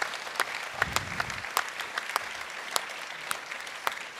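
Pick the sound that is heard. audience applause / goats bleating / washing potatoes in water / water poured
audience applause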